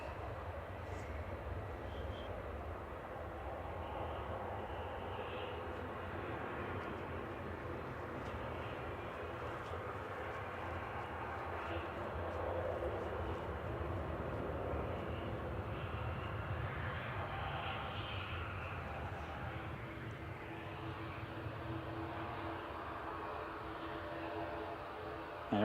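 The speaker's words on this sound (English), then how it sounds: "There is the Aer Lingus A330 heading out" Aer Lingus Airbus A330 departing Manchester Airport for Orlando, a steady distant jet engine roar holding for the whole stretch, moderately loud and broad, without talk.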